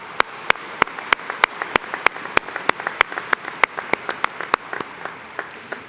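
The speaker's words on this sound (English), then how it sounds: "Let's give them a round of applause." An audience claps for honored students at a 2019 spring commencement ceremony. Sharp claps ring in a fairly slow, even rhythm across a large hall, with no talking over them.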